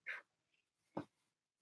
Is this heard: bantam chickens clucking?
no